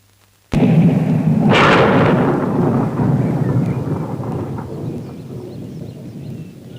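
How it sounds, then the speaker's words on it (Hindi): A loud crack of thunder bursts in after silence, swelling into a long, deep rumble that slowly fades over several seconds, like a storm in a rainy Hindi film scene. "क्यों गरज रहे हो? कितना भी गरजो मुझे डर नहीं लगने वाला।"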